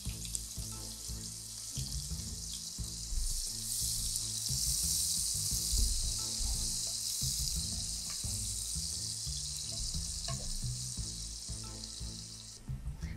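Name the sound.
chopped onions frying in oil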